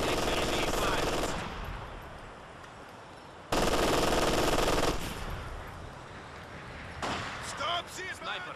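Machine gun fire in the World War II strategy game Company of Heroes 2 arrives in three loud, rattling bursts separated by quieter stretches, with soldiers' voices and battlefield thuds between them.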